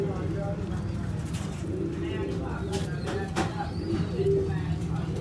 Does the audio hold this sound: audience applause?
no